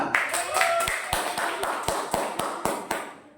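A small group claps together in a steady rhythm of about a dozen sharp, evenly spaced claps after a quiz at an Islamic study gathering, close and fairly loud, with faint voices underneath.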